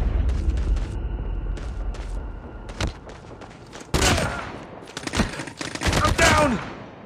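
Bursts of gunfire and explosive booms from the mobile shooter Call of Duty Mobile, played on a Redmi Note 7, crackle in clustered volleys and then build into a dense, loud barrage with brief lulls between.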